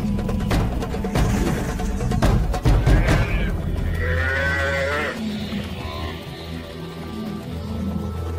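A buffalo herd in chaos during a lion attack in the wild, heavy rumbling and thudding with low moos and bellows, then higher animal cries over a steady background.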